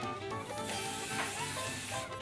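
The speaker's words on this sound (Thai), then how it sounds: "จากนั้นค่ะจะก็ขีดสเปรย์" Hair spray hisses from a can in one continuous, fairly even spray lasting a couple of seconds while hair is being styled.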